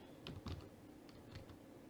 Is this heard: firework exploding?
no